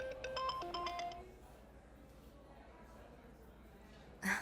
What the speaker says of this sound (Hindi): कॉल आ गई।